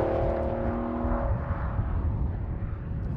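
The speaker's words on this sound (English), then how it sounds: "that V12 makes a gorgeous noise" An Aston Martin V12 Vantage on the road, its V12 engine giving a steady, loud, close cabin drone with tonal hum that fades into a rougher rumble, no talk.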